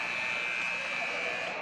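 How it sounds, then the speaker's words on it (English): Halftime buzzer at a boys' high school basketball district semifinal, a loud sustained electronic tone ringing over crowd noise in a gym for under two seconds. "And the buzzer sounds."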